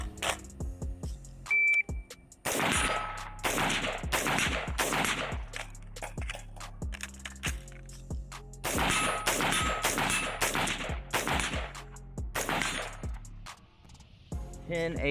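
Rapid strings of AR-15 rifle shots fired at targets, sharp and loud, with a pause for a reload partway through and scattered shorter bursts; voices talk briefly between strings.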